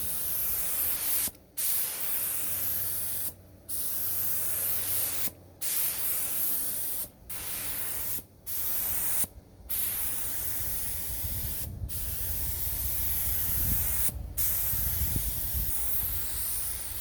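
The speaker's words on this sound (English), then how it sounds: "before we spray our clear coat." Spray gun laying clear coat on a Ford F-150's paint, a loud close steady hiss in repeated passes broken by brief silent gaps between strokes.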